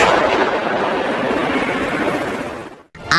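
A dense, continuous burst of rapid video game gunfire roars loudly for about three seconds, then cuts off abruptly before another sharp blast.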